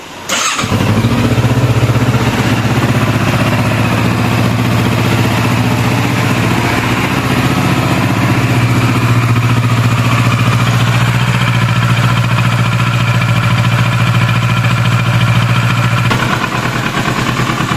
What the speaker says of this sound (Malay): So kita panaskan enjin sikit.